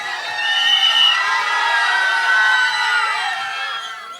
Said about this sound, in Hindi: धनुष सर के लिए एक बार जोरदार तालियां।